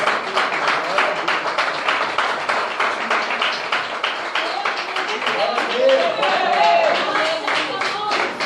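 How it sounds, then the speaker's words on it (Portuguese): A church congregation claps and applauds steadily and fairly loudly for several seconds, a dense rhythmic patter of many hands, with a voice speaking over it briefly. "Você pode aplaudir?"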